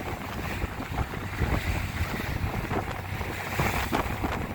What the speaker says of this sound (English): we're getting waves over the bow